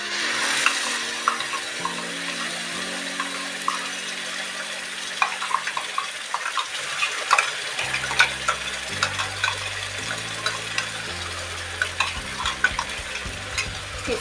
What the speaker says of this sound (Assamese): এতিয়া মই খুব সুন্দৰকৈ এইখিনি ভাজোৱালৈকে ভাজিব লাগিব